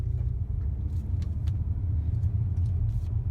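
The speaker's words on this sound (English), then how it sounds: "So we're gonna drive off in D." A BMW E60 M5 with SMG transmission pulling away in drive, a low steady engine rumble heard from inside the car, even and unbroken throughout, with no voices.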